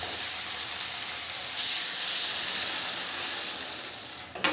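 Water is poured into a hot pan of spiced potatoes, releasing a sudden burst of hissing steam that slowly fades into a softer, continuous sizzle, with no voices.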